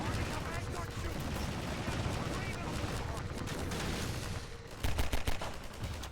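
Gunfire in the Half-Life 2 Episode 2 game: dense, sustained rapid shooting throughout, with a run of louder distinct shots near the end.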